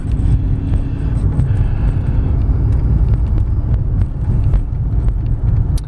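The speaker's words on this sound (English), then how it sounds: "Do a nice California stop and still have enough power to accelerate quickly up this hill." A 2002 Volkswagen Golf GLS with a 5-speed manual accelerating up a hill after a rolling stop, steady engine and road noise heard from inside the cabin, loud and continuous.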